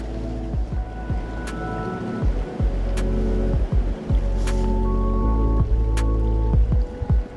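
A mountain stream in the winter Carpathians gurgles and trickles close by over a low rumble, with scattered clinks and splashes as water is collected.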